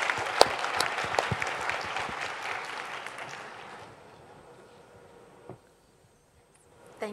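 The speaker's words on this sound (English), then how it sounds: "So let's give them a round of applause." An audience at a plenary session of a conference applauds with lively, dense clapping that gradually thins and fades out over several seconds, leaving near silence with a last stray clap.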